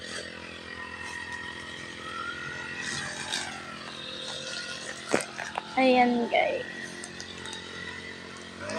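A grass cutter runs on a farm, a continuous motor drone throughout with brief louder surges, while someone talks over it.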